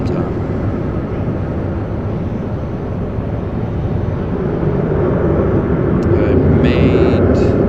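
An Endeavor Air airliner near Raleigh-Durham International Airport gives off a steady, broad jet rumble from a distance, with a voice talking over it.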